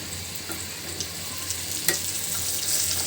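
Pointed gourd (potol) slices fry in a pan with a soft, steady sizzle and hiss, punctuated by a few light taps of stirring, close and alone.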